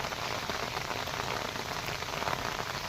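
Heavy rain falls in a steady, dense hiss, close and unbroken across the short stretch, with no voices.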